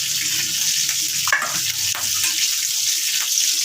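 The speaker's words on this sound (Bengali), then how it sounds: "এই আলুগুলো এখন আমি ভেজে নিচ্ছি।" Potatoes frying in hot oil give a steady, loud sizzle that fills the whole stretch, with a couple of brief stirring scrapes partway through and no voices.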